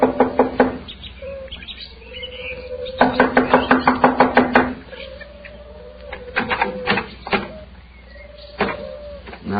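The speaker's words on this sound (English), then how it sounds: "I'll knock on the door." Knocking on a door in an old radio crime drama comes as several quick bursts of sharp raps with pauses between them, close and loud, mixed with high chirpy tones.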